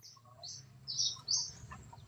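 Pet birds set out in the sun chirp and tweet in short bright bursts, several calls close by over a low background murmur, with no talk.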